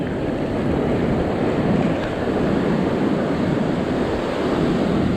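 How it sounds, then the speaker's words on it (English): Ocean swell and surf breaking at Pensacola Beach on a windless day, a steady, loud, continuous wash of waves rolling in close by with no talk. "I don't know where this swell's coming from"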